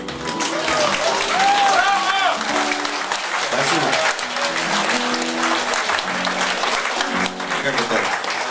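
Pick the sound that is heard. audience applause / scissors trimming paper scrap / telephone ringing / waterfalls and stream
audience applause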